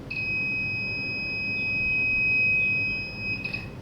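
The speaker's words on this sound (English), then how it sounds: "When the stick comes closer to a hurdle, it's going to generate a beep" An obstacle-detecting stick for the blind gives out a steady, continuous high-pitched electronic tone that holds for several seconds before cutting off, loud and close.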